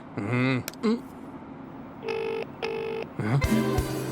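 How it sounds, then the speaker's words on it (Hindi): Short bursts of phone keypad tones followed by two long electronic ringback tones, with brief voice fragments between them. "भाई रिंग तो जा रही है।"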